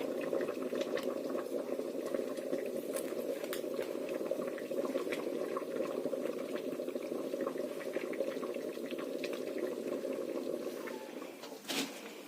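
Water heating to a boil on a village farm, with steady, close bubbling and rushing that holds continuously, and a brief knock near the end.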